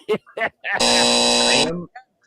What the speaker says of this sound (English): Yeah, double buzzer.